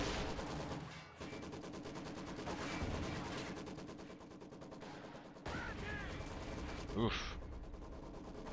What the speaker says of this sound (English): God, so much Maxim fire